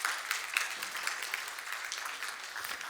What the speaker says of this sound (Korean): 전북대학교 관계자분 계시면 박수 한번 보내주시겠습니까?